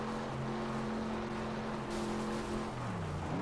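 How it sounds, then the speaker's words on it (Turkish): Engine drone from a car accelerating in the racing game FlatOut 2, a steady rising hum with other engine tones nearby, ending in a gliding pitch change. "Burada bir de araba çok hızlanıyor."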